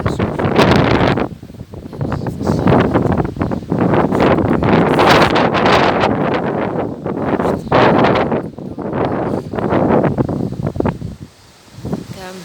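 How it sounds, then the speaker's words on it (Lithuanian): Strong wind gusting through bending birch trees outdoors, loud surging bursts that swell and drop repeatedly with heavy buffeting on the microphone. "Gamtoje šiandien jau kelintą dieną toks vėjas. Beržai taip linksta"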